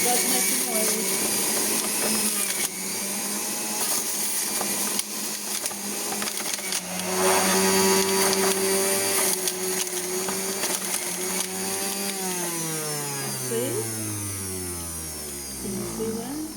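A noisy juicer whirs steadily as celery sticks are fed through it, a loud mechanical drone that rises into a strained grinding pitch partway through, with a person talking over the machine.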